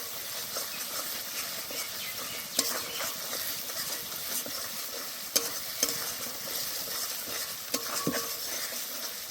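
Ginger and garlic paste fries with onions in a pan, a soft continuous sizzle broken by a few sharp scrapes and clacks of a spatula stirring, quiet and close with no talking.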